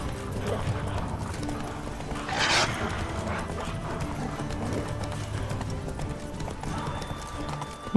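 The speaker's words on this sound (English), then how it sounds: "I don't know why the horse is so scared." Horse hooves gallop in The Witcher 3 as a steady clip-clop rhythm over a busy game soundscape, with a brief louder burst midway and possible whinnying.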